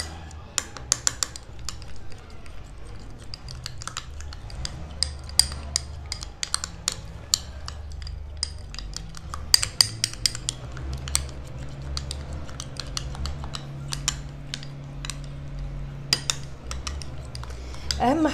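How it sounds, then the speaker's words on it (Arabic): A spoon stirs a yogurt face mask mixture in a bowl, with sharp scattered clinks and taps of metal on the bowl over a low steady hum, close and fairly loud throughout. "هنقلبهم كويس جدا جدا لما نذوب الزبادي معاها"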